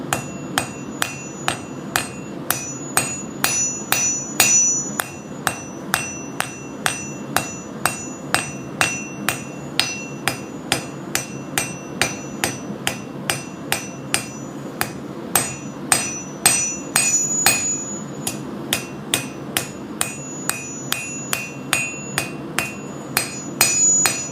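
A blacksmith hammers the heated tip of a blade on an anvil, striking over and over in a steady, even rhythm of bright ringing blows, loud and close, with no voices.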